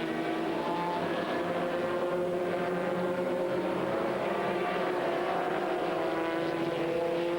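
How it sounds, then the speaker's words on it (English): Race cars from a tight group of back markers at a 2000 American Le Mans Series race sweep past a PTG BMW. Dense, steady engine roar with shifting pitch fills the whole stretch, with no voices. "In a tight group of back markers, he goes past the BMW, the PTG car of Boris Seid, Hans Stuck and J"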